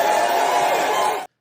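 A crowd at a political event roars with sustained cheering and shouting that stays loud and dense throughout, then cuts off abruptly.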